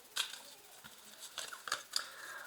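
Tarot cards are laid down onto a pile, making a few quick, light slapping and sliding card sounds, close and fairly quiet, with no talking.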